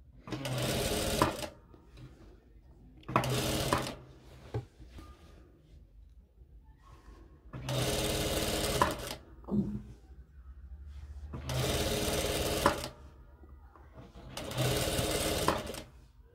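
A sewing machine stitches fabric for a jilbab cape in four or five steady bursts of a few seconds each, with quiet pauses between runs as the seam is guided.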